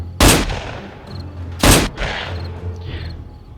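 Two loud, close gunshots about a second and a half apart ring out during horde night in the video game 7 Days to Die, each with a brief echoing tail and no voices over them.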